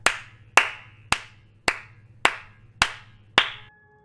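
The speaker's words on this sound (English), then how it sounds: "Either my claps are incredibly loud or this room is echoey as hey." Seven sharp hand claps at an even, unhurried pace in an echoey room, each followed by a short ringing tail. The claps are loud and close, and nothing else is heard.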